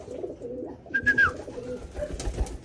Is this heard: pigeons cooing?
yes